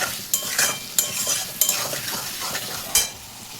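Mutton being stir-fried in a pan for kosha, with a steady sizzle broken by repeated sharp scrapes and clinks of a spatula against the metal, close and fairly loud, no voices.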